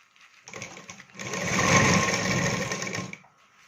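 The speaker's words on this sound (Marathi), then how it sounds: "हे असं शिवून झाला, परत फिरवून घ्यायचा आणि आपण डबल टिप टाकायची." A sewing machine runs one steady burst of about two and a half seconds while double-stitching a katori blouse seam, starting after a short pause, with close, loud whirring and no talking.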